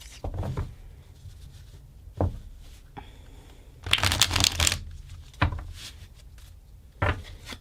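A deck of cards is shuffled up close in several bursts: quick riffling rattles, soft taps and pauses between, with no talking.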